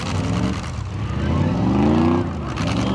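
Trucks race in the mud at a fall fair demolition derby, their engines roaring loud and close with a rising revving pitch, while an announcer talks over them.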